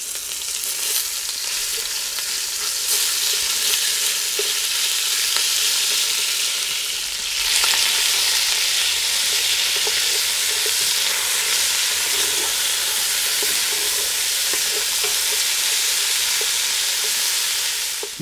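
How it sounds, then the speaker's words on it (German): Loud, continuous sizzling of minced meat frying in hot oil in a Dutch oven, with occasional scraping and stirring, steady throughout. "Da werden wir jetzt unser Gehacktes nehmen und das Ganze portionsweise schön krümelig anbraten"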